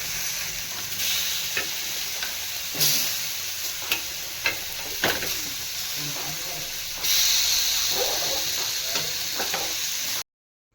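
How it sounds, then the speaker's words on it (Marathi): Fish pieces fry in oil in a pan with a steady hissing sizzle, a few clinks and scrapes as they are turned, and the hiss rising louder partway through before cutting off abruptly. "10 मिनिटांनी आपल्याला हे माशाचे पीस पलटून घ्यायचे"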